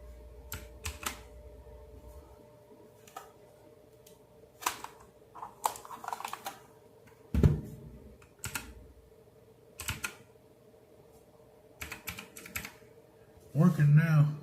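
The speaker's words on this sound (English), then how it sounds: "See if my keyboard works today." Someone types on a computer keyboard during a live stream at home, in irregular bursts of clicking keystrokes with pauses between, set against a low steady hum and a few thumps.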